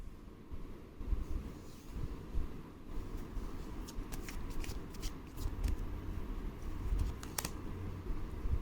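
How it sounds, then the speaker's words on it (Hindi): Tarot cards being shuffled, with soft, quick, repeated snaps and flicks riding over a steady low background hum, several brief sharp riffles clustered in the latter half. "थोड़े और कार्ड्स ले लेते हैं।"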